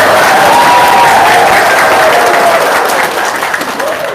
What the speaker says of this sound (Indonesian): Tepuk tangan, kurang kenceng.